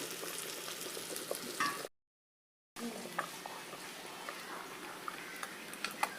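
Ghee frying in a pan for a goat-head mutton curry gives a soft, close sizzle with light ticking. The sound breaks off into a short silence, then resumes.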